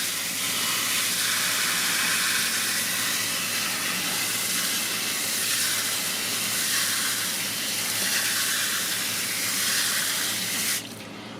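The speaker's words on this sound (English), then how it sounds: "And fill the remainder of the filter with water." Water rushes steadily into the tank of a new 2019 Intex 3000 GPH sand filter pump during assembly, a loud, even hissing flow that continues alone before dropping off abruptly near the end.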